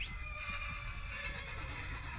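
A horse in the video game Skyrim lets out a single long, shrill whinny that wavers and fades over a couple of seconds, heard alone with no talking.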